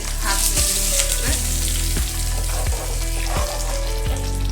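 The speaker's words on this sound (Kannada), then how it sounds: "ಇದು ಒಗ್ಗರಣೆ ಆಗಿದೆ, ಇದರಲ್ಲಿ ಹಾಕ್ತೀನಿ ವೀಕ್ಷಕರೇ" A South Indian tempering (oggarane) sizzles loudly in hot oil as it is poured into bisi bele bath, a steady close crackle broken by several regular stirring strokes.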